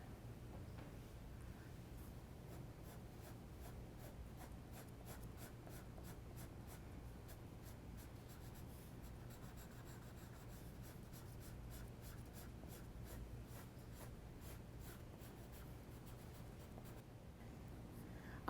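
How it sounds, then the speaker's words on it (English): An ebony pencil is drawn softly across paper to shade a horse portrait, giving a quiet, close scratching and rubbing with rapid repeated strokes that run steadily for a long stretch, with no talking. "I am using my ebony pencil because my 8B pencil did not give me a dark enough dark."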